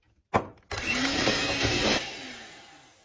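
Homemade sour cream being whipped with sugar and vanilla sugar by an electric mixer: after a short bump the motor starts loud and close, holds a steady whir, then tapers off.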